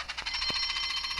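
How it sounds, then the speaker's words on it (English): Alarm in a Thomas the Tank Engine railway story, a steady shrill electronic ringing tone held evenly through a short burst, loud and alone. "Soon came the alarm."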